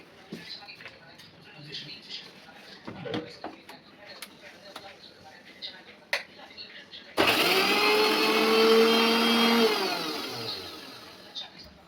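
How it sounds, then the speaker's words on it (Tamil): Mixer grinder whirring loudly as it grinds ginger, garlic and green chilies, starting abruptly partway through after quiet household sounds and brief voices, then running steadily with a falling motor whine. "மிக்சியில் அரைக்க ஆரம்பிச்சிட்டாங்க. இஞ்சி, பூண்டு, பச்சை மிளகாய்."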